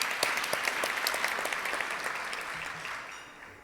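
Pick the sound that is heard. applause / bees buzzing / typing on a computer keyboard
applause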